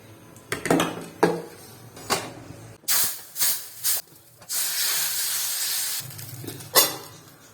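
Appam batter of ground rice with baking soda poured into a hot pan, giving a loud steady sizzle and hiss that swells after a few clinks and scrapes of metal cookware, close up with no talk.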